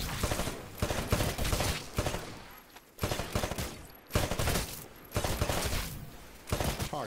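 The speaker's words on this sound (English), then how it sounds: "Destroy all of the targets in the shooting range." Rifle fire at shooting range targets in Titanfall, several bursts of loud shots separated by short pauses, close and dominant with no talk.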